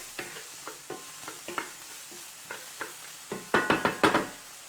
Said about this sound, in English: I'm just going to saute those for a few minutes.